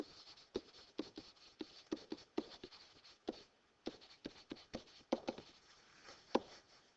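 Pen scratching out geometry notes on paper, a close, quiet run of short irregular strokes and taps with brief pauses between words.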